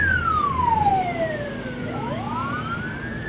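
Emergency rescue vehicle siren sounding as the vehicle speeds off on a call, a loud wailing sweep that falls in pitch, with a second siren tone rising behind it over road rumble.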